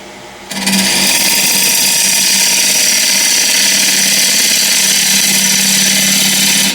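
A wood lathe spins a ball shape while a bowl gouge's wing scrapes the surface, giving a loud, steady whirring hum with a constant low drone after a brief quieter start.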